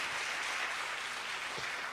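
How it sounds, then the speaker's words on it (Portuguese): A church congregation applauds during a sermon, a steady, dense wash of clapping holding at even loudness throughout the brief stretch, with a faint voice briefly rising underneath. "Minha salva de palmas a Jesus."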